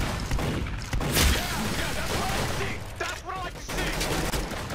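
Rapid concussion rifle fire in Roblox Arsenal, loud dense bursts of shots close up through the whole stretch, mixed with game effects and a voice talking over it.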